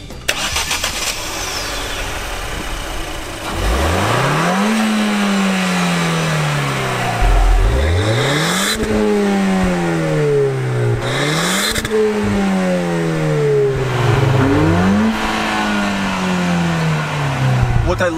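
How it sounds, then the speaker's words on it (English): A VW Super Beetle and a Ford Fiesta ST rev in turn during a standstill rev battle, several loud rising-and-falling engine revs repeating every few seconds over a steady idle, close by. "What I love about the Fiesta is that it actually lets you rev it to the red line when standing still."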